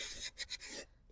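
Sandpaper rubbed by hand over a thrift-store furniture piece gives a brief, faint rasping scrub with three quick strokes, close and quiet, then stops.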